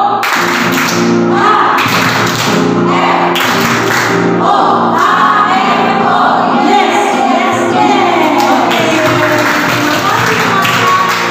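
Children clap a group cheer routine during an online kids' worship service, quick rhythmic claps in bursts over several seconds, loud and close, with voices mixed in.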